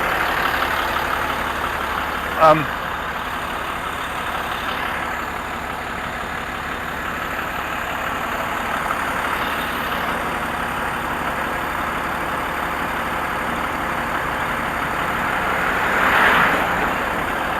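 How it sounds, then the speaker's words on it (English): A large vehicle's motor idles nearby on a street as a steady low rumble running the whole time, with a brief sharp knock early on and a slight swell near the end. "it's a large vehicle. Can you hear the motor running as I can?"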